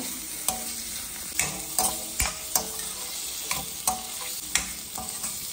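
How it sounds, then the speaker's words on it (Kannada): Food frying in a pan until golden brown for cashew paneer masala: a steady sizzle broken by sharp clacks of a utensil stirring and scraping the pan every second or so, close and clear, with no voices. "ಗೋಲ್ಡನ್ ಬ್ರೌನ್ ಆಗುವವರೆಗೆ ನೀವು ಹುರಿಬೇಕು."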